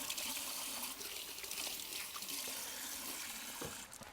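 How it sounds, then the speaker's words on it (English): Kitchen tap water runs steadily into a sink while hands are washed after handling chicken, a close, constant splashing hiss with small shifts as the hands move in the stream. "I need to wash my hand after the chicken."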